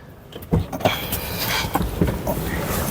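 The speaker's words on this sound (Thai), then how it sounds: "กระจกปรับไฟฟ้าทั้ง4บานนะครับ" Electric power windows on a 2020 Toyota Camry 2.0 G are operated inside the car, giving a steady motor whir with a few sharp clicks and thumps over about three seconds; no talking.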